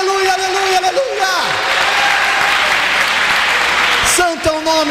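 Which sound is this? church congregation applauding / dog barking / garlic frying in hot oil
church congregation applauding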